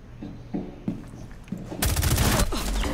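A few faint thumps give way to loud, dense rapid gunfire from an MP5 in a Rainbow Six Siege Tower team deathmatch bomb round. The volleys fill the second half of the clip without pause.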